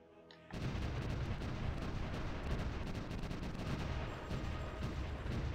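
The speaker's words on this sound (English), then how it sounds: "already getting fired on by some artillery over here" Artillery fire in the strategy game Supreme Ruler The Great War, a sudden onset of dense, continuous rumbling barrage and crackling gunfire that stays loud and steady after a brief quiet start, with no talk.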